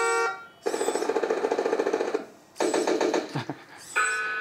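An RC hydraulic loader's sound module (WA470, WA480 or JZ C95) plays an electronic machine-gun effect: two loud bursts of rapid rattling shots separated by a short pause, with a brief tone before and after.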